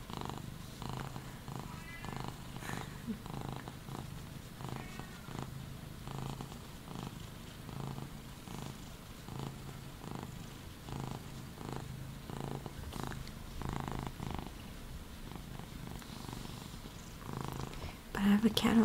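A cat purrs steadily while resting on a lap, a continuous close, low rumble that runs the whole time under soft, quiet talking, with light rain noise in the background.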